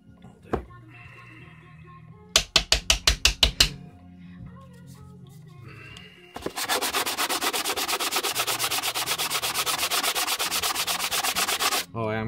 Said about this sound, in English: Sandpaper out.